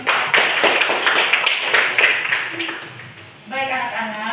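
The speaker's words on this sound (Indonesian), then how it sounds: "tepuk tangan dulu untuk kita semua" Children in a classroom clapping hands together, a dense burst of claps under brief talk, fading after about three seconds before a voice and a tonal sound take over.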